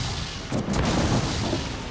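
Ship cannons firing a broadside in Assassin's Creed IV: Black Flag, a dense rumbling run of booms rolling together for about a second and a half, loud and close with no talk over it.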